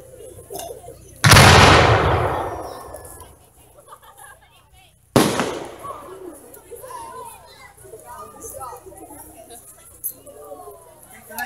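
A 2 3/4 inch firework shell launches with a sharp, loud thump at a park fireworks demonstration, and a second heavy boom follows a few seconds later. Crowd chatter and children's voices continue underneath and afterward.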